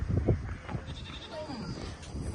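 Goats bleating nearby at a rainy spot by a dam near Rustaq, a couple of short wavering calls under a person talking.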